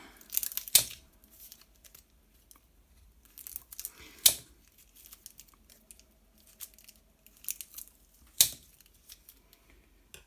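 Fruit leather made from home-canned apple and plum sauce being cut into small rolls, giving soft snips and crinkly tearing sounds with three sharp louder cuts spread across a quiet stretch.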